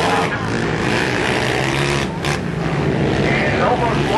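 Loud, dense engine roar from ATV racing on the final lap of an ATVA open event at Pell City, a continuous buzzing drone that swells and dips as machines pass nearby, with no clear breaks.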